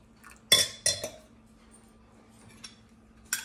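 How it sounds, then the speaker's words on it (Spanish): Garlic, paprika, olive oil and red wine stirred together in a dish, a few sharp utensil clinks against the bowl, close up and separated by quiet pauses. "Se revuelve todo eso."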